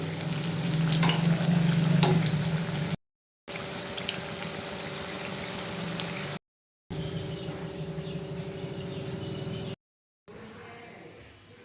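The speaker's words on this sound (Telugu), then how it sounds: "వీటిని గోధుమ రంగు వచ్చే వరకు వేయించుకోవాలి" Corn fritters (makka jonna garelu) frying in hot oil, a steady bubbling sizzle broken by short gaps, with a voice talking over parts of it.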